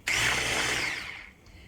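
An electric hand mixer whirs loudly for about a second while whisking sugar into cake batter, then winds down as the motor is switched off.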